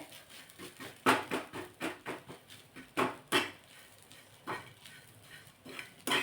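A spoon stirs amchur powder into a pigeon pea filling for kachori in a pan, giving a series of close, irregular scraping and tapping clinks that come in uneven bursts, with no voices.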